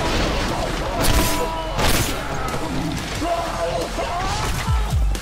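Grenade explosions in the first-person shooter Trepang2, with several heavy booms and crashes going off one after another inside continuous loud combat noise, while a player's voice is heard over it.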